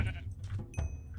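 Sheep bleating in Minecraft, a short nasal cry from the blocky farm animal, heard once or twice over low game background noise.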